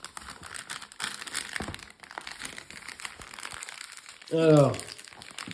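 A paper envelope holding Japanese Pokémon booster packs is opened with close crinkling and rustling, and a voice rises near the end. An adult speaks French briefly at the start.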